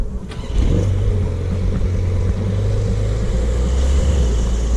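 A German car's engine hums loud and close in a continuous low drone after a brief quieter start, holding steady throughout with no voices.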